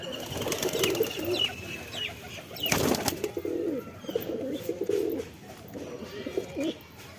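Several domestic pigeons coo close by in repeated low, soft bursts, with a sharp flutter of wings partway through and faint chirps in the background.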